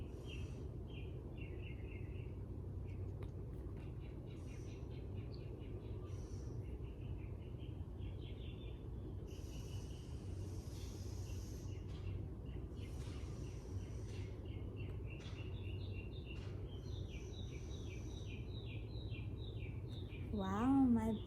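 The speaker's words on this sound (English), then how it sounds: "my birds. Sing that. Sing it, girl." Pet birds sing in a quiet indoor room, with repeated faint high chirps and trills scattered throughout over a steady low background hum, growing a bit louder near the end.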